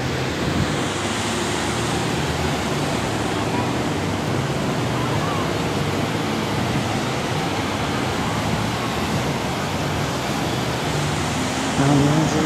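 Steady, loud Atlantic Ocean surf rolls onto a beach without pause, a broad continuous wash of breaking waves with wind buffeting the microphone.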